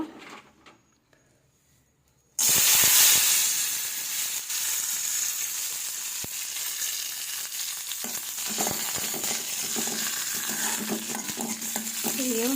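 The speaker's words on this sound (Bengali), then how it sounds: "এইও কিশমিশটা ভেজে নেব।" Raisins fry in a pan, a loud, dense sizzle that bursts in suddenly after a quiet start and then holds steady, with light stirring noises and no voices.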